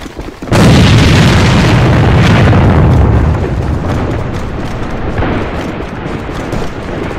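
Loud grenade blast in a multiplayer shooter video game, a sudden heavy boom followed by a long rumbling roar that slowly tapers off.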